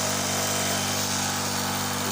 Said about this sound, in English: you want to use the drill as normal on a fast speed